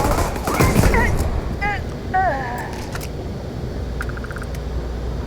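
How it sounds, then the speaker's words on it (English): The Big Bang particle beam shotgun in Starfield fires a few sharp energy blasts with warbling electronic tones, followed by quieter clicks and ambient hum. "Big Bang particle beam shotgun"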